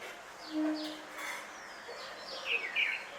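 A red-whiskered bulbul sings a few short, sweet chirping notes, faint and somewhat distant against quiet outdoor background.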